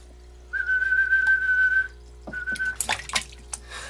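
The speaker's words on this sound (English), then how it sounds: "We'll do our whistle." Someone whistles one long steady note, pauses, then gives a shorter one, followed by a few light clicks and rustles.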